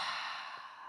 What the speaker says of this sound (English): Exhale it out the mouth, let it all go.